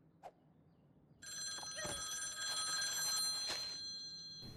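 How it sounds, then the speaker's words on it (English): A cartoon telephone rings in an animated pony series: a short soft tick, then a bright, continuous trilling bell that runs for about two and a half seconds before cutting off. "Okay, who didn't mute their phone?"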